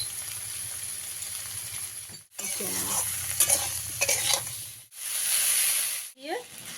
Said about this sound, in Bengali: একটু ভালো করে নেড়ে চেড়ে নিয়ে